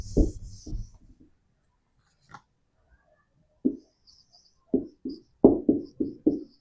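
Pen writing an answer by hand on paper, heard as close, short scratchy strokes in bursts, an early cluster followed by a pause and then a quick series of strokes, with no talking.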